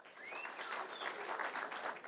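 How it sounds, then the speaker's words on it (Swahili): A crowd at a political rally in Githunguri, Kenya, breaks into sustained applause, a dense wash of clapping from many hands, moderately distant and steady for a couple of seconds. "Watu wa Githunguri jipigieni makofi."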